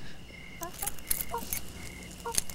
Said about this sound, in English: you still got the Timadoodle keys?